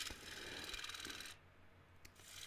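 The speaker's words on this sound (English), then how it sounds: "You're basically going to use your different grits of sandpaper and just quickly bring the finish of the material up to a really nice finish." Sandpaper rasping against a spinning wooden bowl on a woodturning lathe, a steady broadband scratching over the machine's low hum, dropping away partway through before the rubbing resumes.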